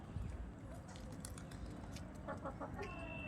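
A rooster clucks in a short run of quick notes near the end, over a steady noisy background with other faint bird calls on a poultry farm.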